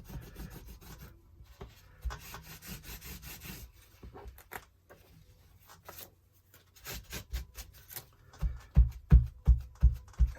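Crayon rubbing hard on an art journal page, a Neocolor II water-soluble wax pastel scraping in rough, uneven strokes that turn into a run of loud, rhythmic scrubbing bursts near the end, close and with no talking.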